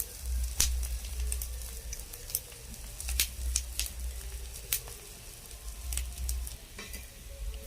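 Fish roe fritters fry in a kadai with a soft, steady crackle of hot oil. Occasional sharp clicks and taps of a utensil sound close by, and a low rumbling hum rises and falls beneath.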